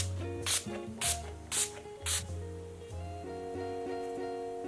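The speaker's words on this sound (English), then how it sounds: "Now just going in with that same Wet n Wild setting spray as before." Four short, sharp hisses of a Wet n Wild setting spray bottle pumped in quick succession, close up, over soft background music.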